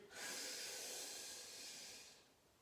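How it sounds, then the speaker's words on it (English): One deep breath is drawn in during a neck-stretching exercise: a near, airy hiss that swells quickly, holds for about two seconds, then fades away. "Breathing in deep."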